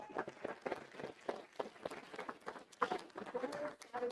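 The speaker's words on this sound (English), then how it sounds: "Yes, you can clap on that." Scattered applause from attendees at a Republican Party meeting in Nashville, a quiet, uneven patter of claps with a voice speaking now and then.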